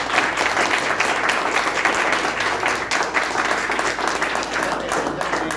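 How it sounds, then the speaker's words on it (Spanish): Audience applause at a book presentation, a sustained, loud burst of many people clapping together with a faint murmur of voices mixed in. "Pero merece un aplauso."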